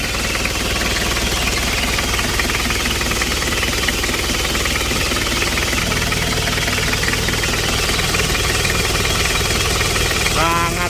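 A motorcycle engine runs steadily throughout a roadside inspection, a continuous loud mechanical rattle and drone with a knocking texture close to the microphone.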